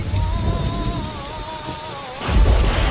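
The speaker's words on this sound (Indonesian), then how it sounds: "terdengar geledek keras disusul hujan semakin deras" Steady heavy rain pours throughout, with a deep rumble of thunder swelling near the end.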